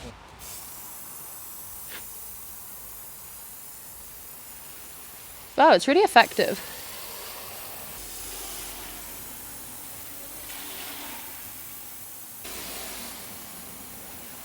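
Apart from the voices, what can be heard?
spray gun spraying paint on a cast iron radiator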